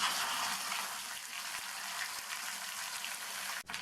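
Ground masala paste sautéing in hot oil for a hotel-style kalan pattani gravy, a soft, even hiss-like sizzle throughout, with a brief sharp click near the end.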